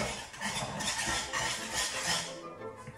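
A whisk works through a gnocchi mixture seasoned with paprika, pepper and salt, producing quick, uneven scraping and clinking strokes against the bowl that fade toward the end.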